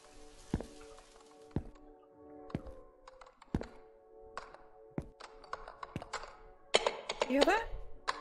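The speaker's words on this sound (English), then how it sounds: "Someone's typing on my computer!" Scattered keyboard taps and clacks in the video game The Convenience Store come in uneven bursts, quiet and nearby, with occasional thumps and a brief squeal near the end.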